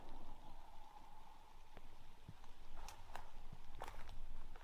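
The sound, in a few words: rain falling outdoors by the Sacramento River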